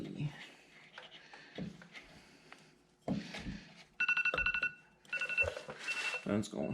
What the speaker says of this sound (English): Phone's going off. Got an alarm for laundry.